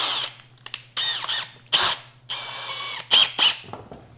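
A power drill fitted with a quarter-inch receiver bit spins up and bores into wood for a hinged box build, in several bursts of whining, grinding cutting separated by short pauses.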